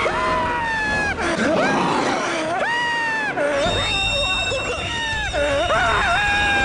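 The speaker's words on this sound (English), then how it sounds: "This is like the best scream they've ever had on this show." A person on a prank TV show lets out a long, piercing scream that rises and falls in repeated wailing bursts, loud and close.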